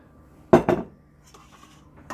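A spoon knocks against a bowl while tandoori chicken marinade is mixed with olive oil, making two quick close clanks and a fainter clink afterwards, with no talking.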